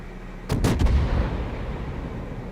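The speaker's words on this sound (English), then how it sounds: "Next volley goes out" Warship guns firing a volley in World of Warships, a quick cluster of three or four heavy booming shots followed by a lingering rumble, loud and close.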